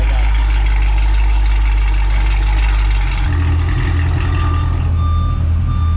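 A Camaro SS with a new aftermarket exhaust idles with its exhaust valves closed, a steady low rumble close by that shifts slightly partway through, with a faint high tone and no talking.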